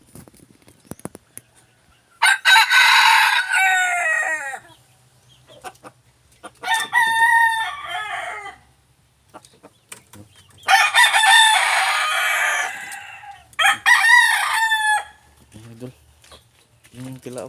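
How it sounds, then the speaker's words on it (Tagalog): A wild red junglefowl rooster crows loudly and close several times, with quieter gaps and faint background sounds between the calls. "Yun yung tilaok."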